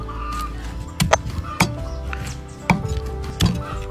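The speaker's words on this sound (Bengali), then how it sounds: "শাপলা পাতা মাছটি সুন্দরভাবে পিস পিস করে টুকরো টুকরো করে কেটে নিব" Lightly fried stingray fish being chopped into pieces with a knife on a board, five crisp close thuds at uneven intervals over soft kitchen background noise and a faint bird calling.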